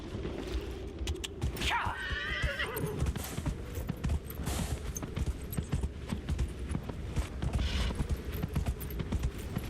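A horse in the video game Dragon Age: Inquisition gives a loud whinny over steady clip-clopping hooves, with a second neigh later as the rhythmic hoofbeats continue throughout.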